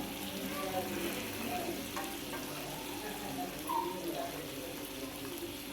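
Quiet, steady sizzling of fresh fish frying on a dosa griddle, the fish breaking apart, with a soft continuous crackle and faint scraping throughout.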